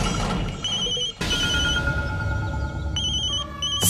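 A telephone rings in a warbling electronic tone, with repeated short bursts of trilling rings across a few seconds, fairly loud and close over a faint background hum.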